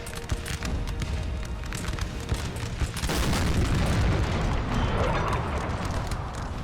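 Artillery fire on a Napoleonic battlefield in Napoleon Total War, dull booms rolling under a constant roar of battle noise that swells louder midway, with distant crackle of musketry.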